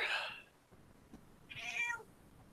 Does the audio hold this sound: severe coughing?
no